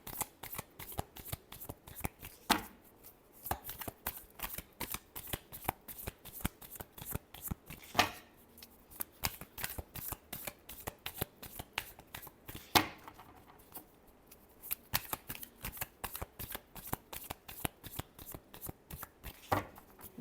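Tarot cards being shuffled by hand, a long run of crisp, rapid riffling clicks in repeated bursts with occasional louder snaps, close and fairly quiet, with no talking.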